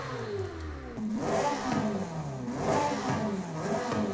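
A Ferrari 3.9 liter engine in the video game Forza Horizon 5 revs repeatedly, its pitch sweeping up and falling back in loud, close waves with no talking.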